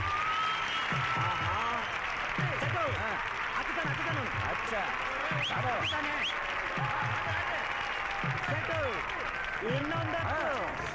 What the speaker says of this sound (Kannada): ಪ್ರೇಕ್ಷಕರೆಲ್ಲ ಜೋರಾಗಿ ಚಪ್ಪಾಳೆ ತಟ್ಟಿ ತಟ್ಟಿ ತಟ್ಟಿ ಚಪ್ಪಾಳೆ ತಟ್ಟಿ